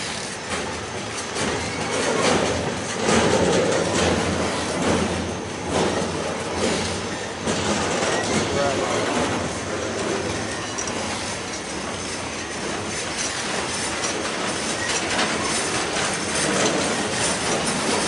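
A CSX freight train rolls past close by, a steady loud roar of wheels and cars with rhythmic clickety-clack and occasional squeal running through the whole stretch, no voices.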